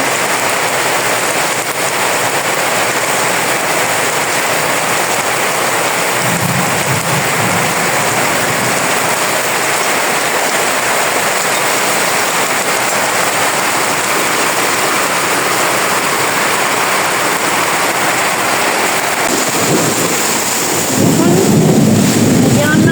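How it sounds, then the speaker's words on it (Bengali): Heavy rain pours down in a loud, steady roar, with low rolls of thunder rumbling in twice, alone without talk. "পুরা দুমে বৃষ্টি পড়ছে।"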